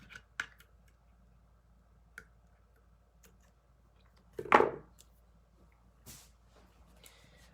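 Scissors snip through a string tail on a nail-and-string red truck craft, a single crisp close cut with a few faint ticks around it in a quiet room.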